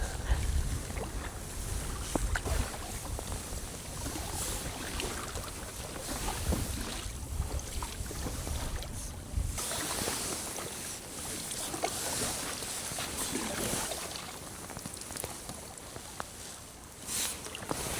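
A kayak moves across water outdoors, with continuous splashing and rushing water mixed with wind buffeting the microphone. The sound is close and fairly steady throughout.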